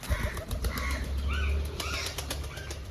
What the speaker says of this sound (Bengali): এখন অনেকগুলো প্রচুর পায়রা হয়ে গেছে